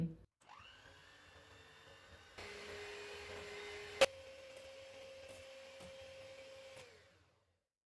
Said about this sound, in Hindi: मैंने 500 ml व्हिपिंग क्रीम ली है, इसको व्हिप करेंगे।